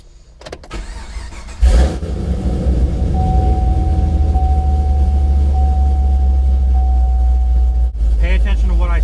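A car with a recently repaired transmission cranks and fires up about two seconds in, then settles into a loud, steady running drone with a faint whine. Brief voices come in near the end.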